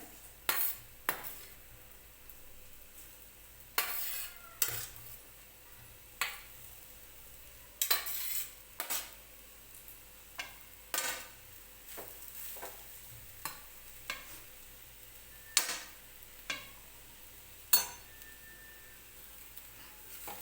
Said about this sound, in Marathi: मंद आचेवरतीच आपल्याला हे खोबरं जे आहे ते सुरुवातीला परतून घ्यायचं आहे